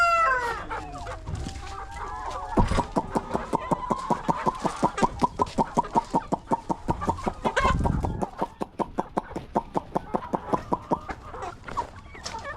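Kienyeji local village chickens cluck close by in a rapid, steady run of sharp pulses. A few crowing-like calls join in, and no one speaks.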